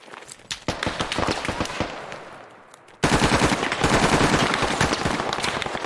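Automatic gunfire in the tactical shooter Squad, rapid bursts of sharp cracks in quick rhythm, first sparse then a dense sustained volley after a brief lull, loud and close.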